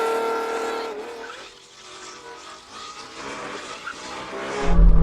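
Lamborghini Temerario and Revuelto launching side by side in a drag race, engines roaring loud and continuous with a rising rev and a sharp surge near the end.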